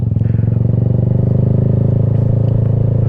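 A motorcycle engine chugs steadily in first gear during a beginner's ride, a close, even, pulsing idle-like putter with no talk.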